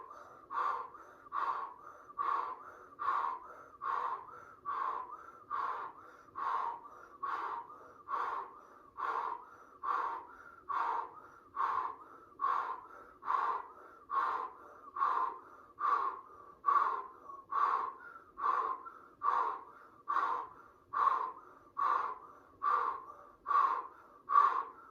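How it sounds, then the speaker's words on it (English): Rhythmic breathing during a gentle beginner yoga session, about twenty evenly spaced breath cycles in a steady loop, each a clear airy rush close to the listener, with no talking over it. "Circular mouth breathing."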